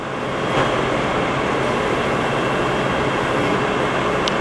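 A heavy duty Poreba lathe with a two-speed motor runs in its high gear range at the higher motor speed, making a loud, steady mechanical roar and whir that stays constant throughout with a faint brief clink near the end.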